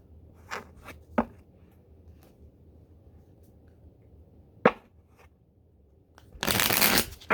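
A thick tarot deck is shuffled by hand: a few sharp card taps and riffles spaced apart, then a dense rushing riffle near the end, close and clear in a quiet room.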